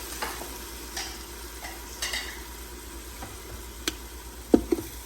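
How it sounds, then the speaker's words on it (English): Quiet sizzling of spices with Kashmiri red chili powder and a little water cooking in an Instant Pot for nihari, with occasional soft scrapes and clinks of a spoon stirring, no voices. "Stir. I'm just cooking off the spices a bit."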